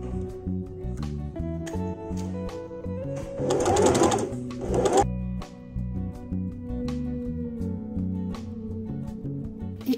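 A domestic sewing machine runs a seam of fabric for a dress or top, its motor whirring steadily in close bursts with a brief louder, faster stretch midway.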